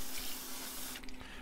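Tap water runs steadily into a sink while something is rinsed clean during a hydrographics activation step, a continuous hiss with a faint splash shift near the end and no voices.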